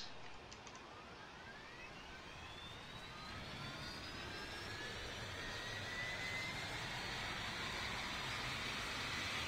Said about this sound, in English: Let's start the engines.